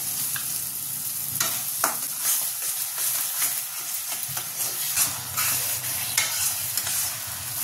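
Spice paste for potoler rezala, pointed gourd in a cashew and melon-seed paste, is stirred and sautéed in a pan, with a steady close sizzle and scraping spoon strokes throughout.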